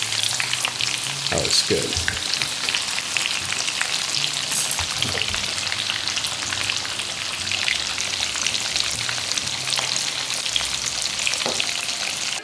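Potatoes sizzling loudly in hot fortified oil as they are tossed into the pan, a dense continuous frying crackle with a few thuds and stirring sounds, and a brief spoken remark partway through.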